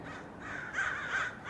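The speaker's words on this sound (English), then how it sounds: "I personally love crows. There's some people that don't like the way they sound, but I don't mind it." Several crows caw outdoors, a run of harsh, repeated calls at moderate distance with no talking, the caws swelling and overlapping toward the end.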